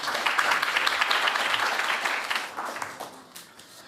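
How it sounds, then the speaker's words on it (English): An audience at an AI summit applauds a guest speaker, with full dense clapping that starts strong and gradually thins and fades toward the end. "So give a round of applause for Alois,"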